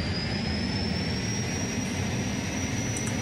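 Jet aircraft engine in the Unturned video game, a steady, loud droning roar with a thin high whine, continuous and unchanging with no talk.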